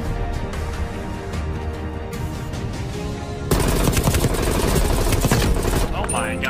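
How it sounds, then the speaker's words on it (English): Rapid automatic fire from an XM4 assault rifle in Call of Duty Black Ops Cold War, dense bursts growing louder and fuller partway through, with game effects and a voice under the shooting. "that's the XM4 you start with"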